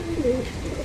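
A pigeon gives one short, close coo in a loft where pigeons are kept for flying, heard alone over a low, steady background.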